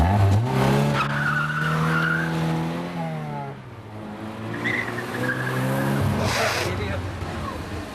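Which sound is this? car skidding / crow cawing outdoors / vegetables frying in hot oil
car skidding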